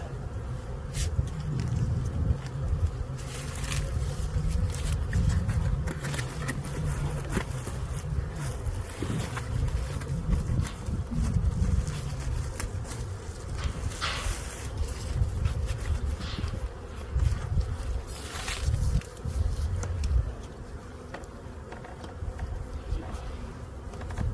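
Honey bees buzzing steadily around a hive being fed a pollen patty, a loud sustained drone with shifting swells and occasional close fly-bys, no talk.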